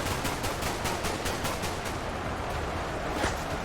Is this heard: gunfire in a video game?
yes